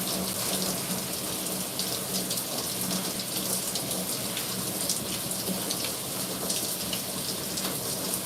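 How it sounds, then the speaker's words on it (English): Rubber gloves rinsed under a running tap to wash off red burgundy hair dye, a steady close gush of water splashing into a sink throughout, with no talking. "You take your gloves and you rinse them off."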